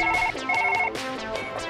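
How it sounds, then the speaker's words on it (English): Telephone ringing in the surgery game Surgeon Simulator 2013, a steady electronic ring tone heard in two repeated bursts over a low game background, loud and close with no talking. "I'm gonna answer the phone. That sounds kind of urgent."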